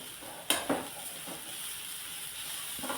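A spoon stirs a banana flower stir-fry with grated coconut in a hot pan, giving a steady sizzle with a couple of scraping knocks near the start, close and continuous.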